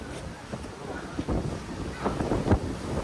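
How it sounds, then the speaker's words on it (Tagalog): Strong wind at a beach in Puerto Galera buffets the microphone with rough, gusty rumbling that rises and falls, with faint voices in the background. "Ang lakas ng hangin."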